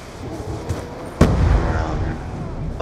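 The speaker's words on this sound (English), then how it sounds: "They just fire off a random shot for no reason." A single sharp gunshot in Call of Duty Black Ops 2 Zombies cracks out once, close and loud, against a low background of game noise.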